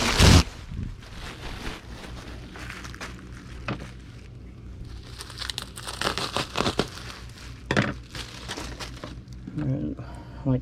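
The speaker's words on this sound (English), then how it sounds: "Now we'll get a sheet of bubble wrap and cut it in half." A sheet of bubble wrap is handled and cut in half while packing sleeping bags, making steady crinkling and rustling plastic noises with sharper snips and crackles, close by and fairly loud throughout.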